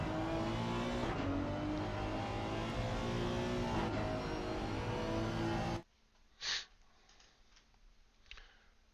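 A race car's engine drones loudly from onboard through a corner, holding a steady tone with a slight dip as the brake is touched and the throttle comes back, before cutting abruptly to near silence with a few faint knocks.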